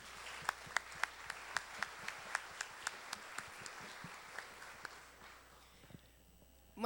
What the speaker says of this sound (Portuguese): Uma salva de palmas para Deus.